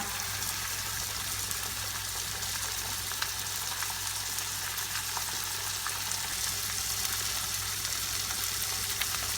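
Egg frying in a pan with macaroni to follow, a dense, loud, unbroken sizzle holding steady throughout with faint crackles and no stirring.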